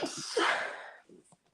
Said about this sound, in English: I'm having a little bit of a sneeze attack.